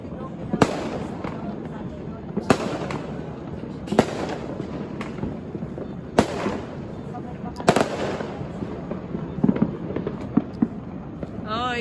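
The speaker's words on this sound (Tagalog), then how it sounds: "watching fireworks" New Year fireworks burst outdoors, a series of sharp cracks and booms a second or two apart with a crackle of smaller pops between, while people cheer and talk in the background.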